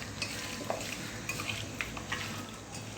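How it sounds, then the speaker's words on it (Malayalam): Chicken being mixed by hand with masala and lemon juice for a dry roast, a soft continuous wet stirring and squishing with faint clinks from the bowl, close and steady with no talking. "നമുക്കിതെല്ലാം കൂടി നന്നായി ഒന്ന് മിക്സ് ചെയ്ത് കൊടുക്കാം."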